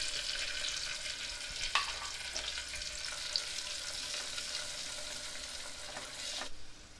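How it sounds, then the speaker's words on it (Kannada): Turmeric goes into a hot oil tempering of curry leaves, giving a steady close sizzle with a few sharp pops and spoon clinks, no voices. "ಅರಿಶಿನ ಹಾಕ್ತಾ ಇದ್ದೀನಿ."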